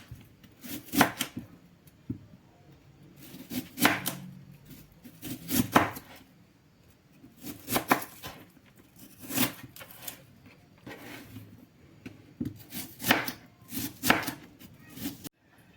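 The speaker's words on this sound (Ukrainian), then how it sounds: "Тепер я хочу нарізати цибулю." A knife slices an onion steadily on a cutting board, brisk crisp strokes in uneven bursts, close and fairly loud, with no talking.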